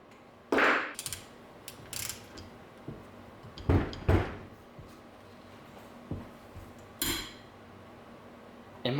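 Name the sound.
breaker bar loosening rusted engine head bolt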